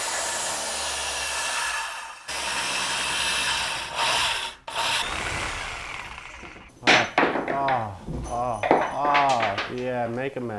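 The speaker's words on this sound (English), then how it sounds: "I'm going to make this first cut, and then I'll make a cut coming in this way, and I'll finish it with a Sawzall." A saw rasps through a wooden loft joist while notching it for a tiny house, starting with a loud, steady cut that briefly stops and restarts. A person then speaks as the sawing fades.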